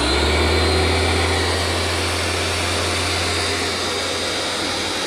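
A Homdox pressure washer runs loud and close, its motor holding a steady, unbroken hum with a strong low drone and broad hiss throughout.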